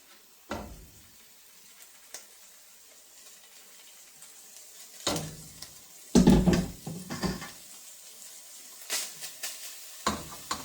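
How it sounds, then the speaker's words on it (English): Ground beef dropped back into a hot pot, with a few sharp bursts of sizzling and scraping as the meat hits the pan and is stirred, separated by quiet gaps. "We're going to add the meat back to the pot."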